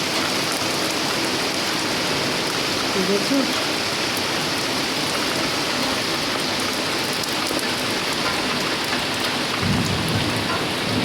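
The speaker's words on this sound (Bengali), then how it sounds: "দেখো কি জোরে বৃষ্টি শুরু হয়ে গেছে, ভালো জোরে বৃষ্টি পড়ছে" Heavy rain pours down in a dense, steady roar, loud and close throughout, with brief spoken words heard under the downpour.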